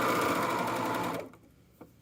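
A serger stitches the sleeve hem of a Kwik Sew K3045 hoodie, a loud fast mechanical whir that stops abruptly, followed by a few soft handling clicks.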